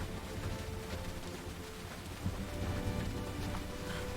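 Heavy rain pours down steadily, a dense close hiss of drops on surfaces without pause, with a low rumble underneath.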